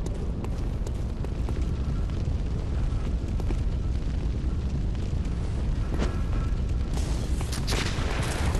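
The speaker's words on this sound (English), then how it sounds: "I just threw fire at his face." A burst of fire thrown at an enemy in Bloodborne roars as a loud, sustained blast of rushing noise, with a sharper flare of sound near the end.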